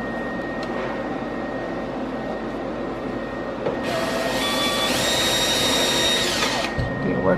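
A power drill whirs during home DIY work, starting partway through as a steady high-pitched motor whine that runs for a few seconds over a background hum, then stops.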